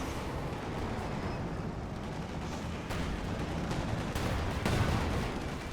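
Pak 40 anti-tank gun firing in a Company of Heroes 2 battle, with a dense, constant roar of gunfire and explosions that booms louder toward the end.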